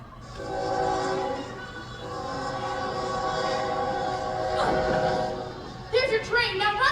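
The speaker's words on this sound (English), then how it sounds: "There's your train, now run for it" A train arrives as a sound effect in a stage musical, a sustained chord-like horn blast over a low rumble, followed near the end by the quick rhythmic clatter of wheels.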